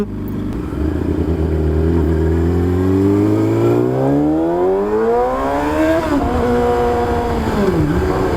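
A Yamaha R6 motorcycle exhaust revs loud and close, rising steadily in pitch, then dipping and climbing again in throaty bursts.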